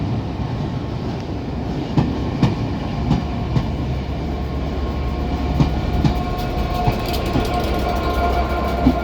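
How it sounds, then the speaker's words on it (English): A British Rail Class 387 electric train pulls out of London Victoria with a steady rolling rumble, punctuated by periodic clicks and clunks of wheels over rail joints, heard fairly close and continuous throughout. "And also departing is a 377 on our left"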